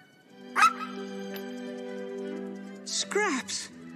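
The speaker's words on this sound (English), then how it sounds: "Victor is reunited with his deceased and now skeletal dog named Scraps" A skeletal cartoon dog from the animated film Corpse Bride lets out a sharp yip early on, then a louder burst of excited barks near the end, over a soft sustained musical score.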